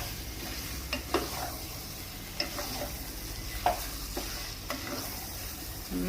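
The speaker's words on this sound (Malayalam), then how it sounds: "ചിക്കൻ ഇട്ട് കൊടുത്ത് നന്നായിട്ട് മസാലയിട്ട് മിക്സ് ചെയ്യാം." Chicken coated in pepper masala is stirred in a pan for a Tamil Nadu style gravy: a quiet, continuous sizzle broken by several sharp scraping strokes at uneven intervals.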